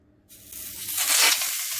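Chicken pieces laid skin-side down in a dry skillet with no oil burst into a loud, close sizzle that starts abruptly and then holds as a steady hiss.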